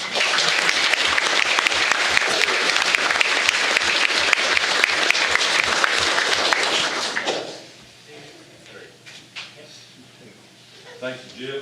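School board meeting audience applauds a newly elected board member, a loud crowd of clapping for about seven seconds that ends abruptly, followed by quieter room sounds and a voice beginning to speak.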